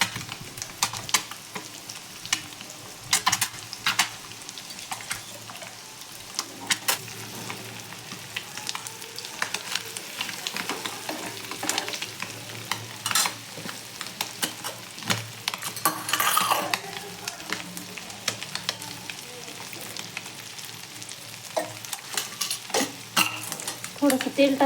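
An egg fries in hot oil in a pan while being stirred, with a constant close sizzle punctuated by frequent sharp scrapes and clicks of a utensil against the pan, and faint speech occasionally underneath.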